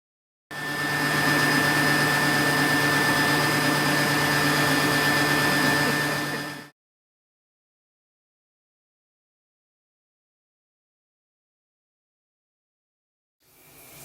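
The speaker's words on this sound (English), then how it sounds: "now I'm going to get up under the dryer for 15 minutes under warm heat" A hood hair dryer blowing on warm heat, a steady loud whirring hum that starts abruptly, runs unbroken for about six seconds, then cuts off into silence before a faint restart at the very end.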